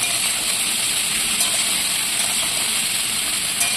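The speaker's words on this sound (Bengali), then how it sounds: "এইভাবে আস্তে আস্তে এঁচোড়টাকে ভালো করে ভেজে নিচ্ছি।" Young jackfruit frying in a pan gives a steady, loud broadband hiss and sizzle that runs unbroken from start to finish, close up, with no voices.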